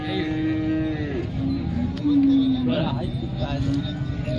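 Cattle at the Modnimb livestock market, with a drawn-out, low bellowing moo rising through the busy outdoor din while people talk nearby.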